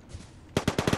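Peacekeeper shotgun fire in the video game Apex Legends: after a quiet half second, four loud, sharp gunshot blasts ring out in quick succession, close and punchy.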